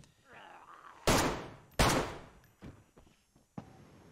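Gunshots in the survival video game DayZ: two loud, sharp reports about a second apart, followed by a few fainter, more distant shots.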